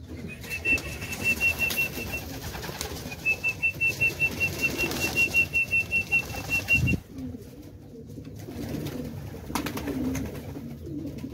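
Loud, close flapping of pigeon wings as a flock of young and older pigeons takes flight, coming in rapid rhythmic bursts with a thin whistling note alongside. The flapping fades into quieter ambient noise partway through.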